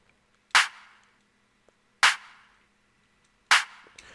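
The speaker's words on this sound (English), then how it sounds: "And then, of course, we stacked the snare with a clap later on," Snare drum stacked with a clap sample in a hip-hop beat, struck three times at an even, unhurried spacing. Each hit is sharp and crisp with a short bright tail, and there is near silence between the hits.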